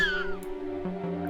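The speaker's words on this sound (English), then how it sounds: "You put the cat sound in" A cat meowing sound effect placed in a short film sounds as one short, clear mew over a steady droning music bed, fairly close and moderate in level.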